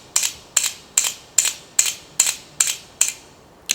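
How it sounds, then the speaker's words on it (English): A digital camera's shutter fires in continuous shooting mode, nine crisp mechanical clicks at an even rhythm of roughly two and a half per second, close and clear against near silence. "So this last one was a continuous shooting."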